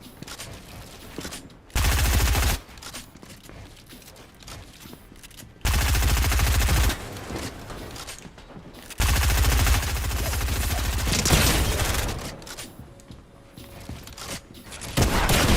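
Loud bursts of rapid automatic gunfire from a weak gun in Fortnite, coming in three sustained volleys of several seconds each, separated by quieter gaps of game noise.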